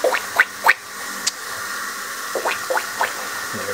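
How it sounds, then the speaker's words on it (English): Kitchen tap runs water into a sink while tofu is prepared, a steady hiss broken by a few short splashes and clinks nearby. "Now, I'm going to go over, start the water"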